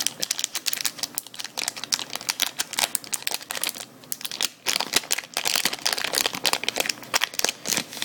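Crinkly plastic foil of a Magic: The Gathering 2015 core set booster pack being torn and crumpled up close, a dense run of sharp crackles and rustles going nearly nonstop with a brief pause midway.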